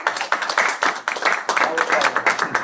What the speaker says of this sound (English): we need to give a round of applause to Kopfaven for showing his